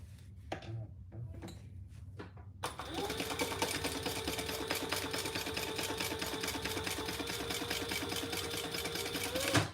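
A sewing machine stitching across a wallet's top stitch, first a few soft clicks and taps, then a rapid steady mechanical chatter running close and continuous.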